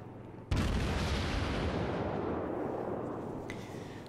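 Naval gun salvo fired at destroyers in World of Warships: one sudden heavy boom strikes and rolls into a long, slowly fading rumble, with a faint tonal blip near the end.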